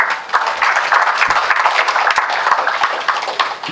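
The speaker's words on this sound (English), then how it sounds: "please welcome Professor K Purushottam Reddy with a big applause" A hall audience applauds to welcome Professor K Purushottam Reddy to the dais at a talk on democracy and decentralisation, giving dense, steady clapping from many hands at close range.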